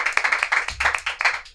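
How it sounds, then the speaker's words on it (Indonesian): Clapping from a small audience in a podcast studio: a brief, uneven patter of hands that stops abruptly after about a second and a half. "Oke, tepuk tangan dong."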